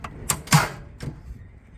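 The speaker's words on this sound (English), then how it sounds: "Go ahead and push this in, slide out the entire drawer." A 24-inch drawer on locking slides in a camper build inside a 1989 Suburban diesel is pushed in and slid out, giving a few short, close sliding clunks and knocks.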